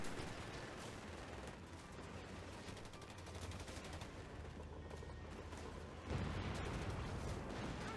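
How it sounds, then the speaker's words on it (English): A Company of Heroes 3 anti-tank gun fires amid a dense, continuous din of battle, with a sharp, louder blast breaking through near the end. "Second anti-tank gun is also firing."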